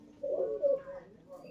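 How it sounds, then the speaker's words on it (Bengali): A female pigeon of an old local bloodline gives two soft, rolling coos close at hand, followed by a fainter trailing murmur in an otherwise quiet space. "দুটোই মাদি পায়রা, এটাও মাদি আর এটাও মাদি।"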